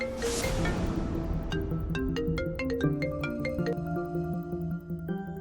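A phone ringtone plays continuously, a bright repeating electronic melody ringing loud and close for several seconds with no talking.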